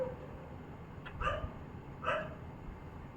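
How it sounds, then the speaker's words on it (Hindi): Dogs barking at night outdoors, two short bark bursts about a second apart, moderately distant over a low background hum, with no one talking. "कुत्ते तो इतना भौंक रहे हैं रात में,"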